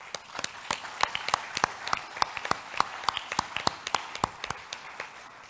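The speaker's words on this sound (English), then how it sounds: "please applaud them" Audience applause at the closing of the TIPO Network Conference 2016: steady, evenly spaced handclaps that sound almost rhythmic, moderately distant and sustained throughout.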